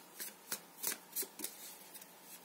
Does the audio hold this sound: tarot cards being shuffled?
yes